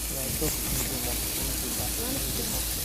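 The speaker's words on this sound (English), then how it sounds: "your pot is hot. And you hear that sizzling." Loud, constant sizzling hiss of meat frying in a hot pot, with a voice talking over it.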